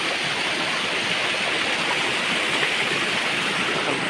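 A small waterfall of water spilling out of a flooded rice field in rural Odisha, a steady, dense rushing and splashing roar that stays constant and fairly loud throughout, with no voices.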